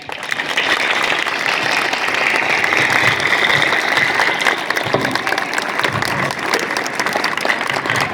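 Schoolchildren clapping at a school event in Lohardaga, a steady dense applause from a large group that stays loud and even throughout.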